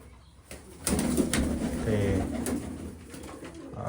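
Pigeons coo nearby amid rustling and background noise, a low soft warble rising partway through and continuing steadily.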